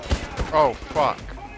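Gunfire in the video game Wolfenstein: The New Order: a couple of quick shots early on, then someone talks over the game sounds.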